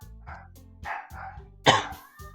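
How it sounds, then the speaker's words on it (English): Dogs bark in short, gruff bursts, several in under three seconds, with the loudest bark near the end, over a low steady hum. "Dogs!"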